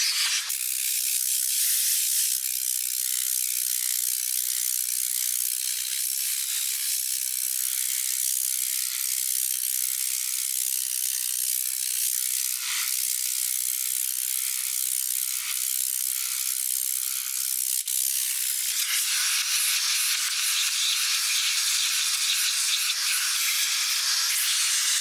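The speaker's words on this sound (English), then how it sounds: "I have this crevice tool for my shop vac that lets me get into those tight spaces" A shop vac with a crevice tool vacuums a car interior around the console and seats, giving a loud, continuous high-pitched airy whine and hiss that shifts in tone as the nozzle moves, close and alone.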